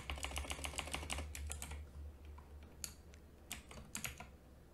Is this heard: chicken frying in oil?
no